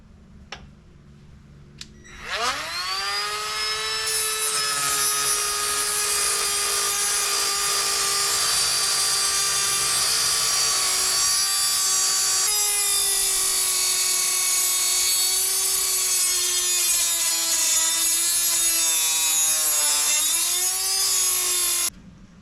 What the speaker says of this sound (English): now we're going to cut off these 3 bolts on the back firewall